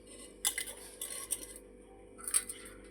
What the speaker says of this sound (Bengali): ভাতটা বেড়ে নিই